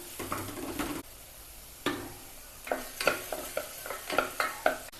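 Chopped onions go into hot oil with popping mustard seeds for a South Indian meal, giving a close, crackling sizzle broken by repeated scraping stirs of a spatula against the pan.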